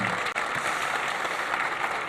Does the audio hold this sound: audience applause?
yes